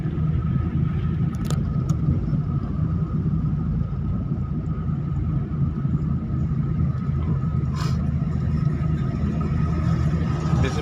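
A car engine rumbles steadily while driving in fourth gear, a constant low drone with road noise throughout and a faint click or two, no voices over it.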